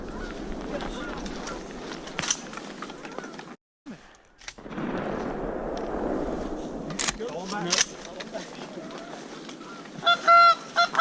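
A flock of late-season geese honks loudly and repeatedly as the birds come in to land during a goose hunt, with a brief pause in the middle and voices talking over the calls.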